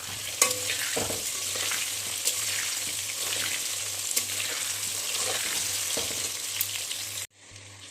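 A spoon stirs a desi chicken curry base of potatoes with turmeric and salt in hot oil in a pan, producing a continuous close sizzle broken by scraping strokes and brief clatters, ending in an abrupt cut.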